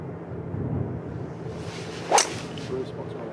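A golfer's full-swing tee shot on a downwind hole at a women's professional links tournament gives one sharp whoosh and crack near the middle, heard over steady outdoor wind and crowd ambience.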